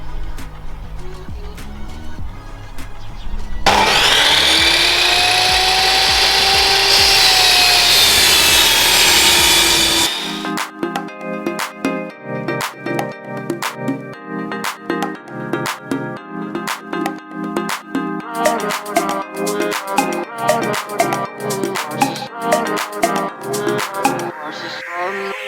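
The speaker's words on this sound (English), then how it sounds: "cut it in a nice rectangular shape with the table saw" A table saw slices through a cheap wood piece being shaped into a rectangular charcuterie board blank: a loud, sustained whining roar for about six seconds, then the motor drops away into quieter rhythmic tapping and clatter.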